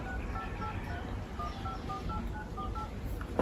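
Telephone keypad tones as a number is punched in: about a dozen short, evenly spaced beeps in a brisk rhythm over a steady background hum, clear and close.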